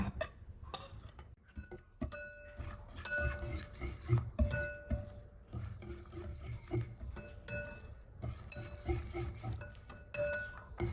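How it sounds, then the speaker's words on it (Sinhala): Chocolate biscuit cream being stirred into cake batter in a bowl, with soft scraping and light clinks of a utensil against the dish, steady and close, no talking. "දැන් චොකලට් බිස්කට් එකේ තිබ්බ ක්‍රීම් ටිකත් මේකටම දාගෙන කලවම් කරගන්න ඕනේ."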